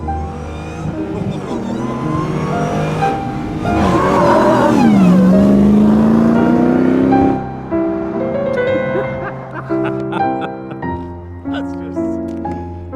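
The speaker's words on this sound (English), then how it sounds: "once you drive a V8 and you have the rumble, the sound, the feel" A Dodge V8 engine rumbles and revs up, rising in pitch as it accelerates, then settles into lower revving with a voice talking over it.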